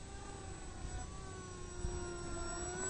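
Electric motor of an XK A1200 large stabilized FPV glider in flight with the throttle being cut back, a steady whining drone with thin tonal lines gliding slowly, continuous and moderately loud, no voices.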